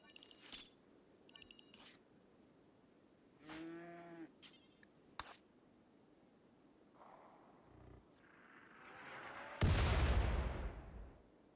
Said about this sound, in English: I don't know how many mortars that thing has, but as long as they're not aimed at me